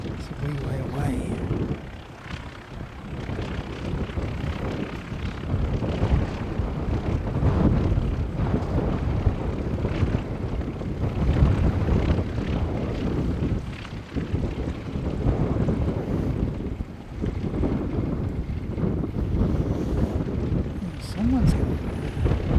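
Air New Zealand flight NZ591 from Wellington approaching, a continuous rumbling roar with wind buffeting the microphone, steady and fairly loud throughout.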